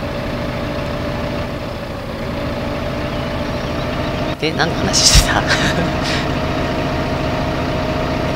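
A tractor engine idles steadily in Farming Simulator 15 with a constant low drone, sounding slightly off, while a person talks over it and a few brief knocks occur midway.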